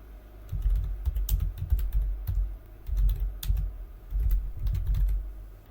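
Linux command being typed on a computer keyboard, bursts of quick close clicks and clacks in irregular clusters with short pauses between, no talking.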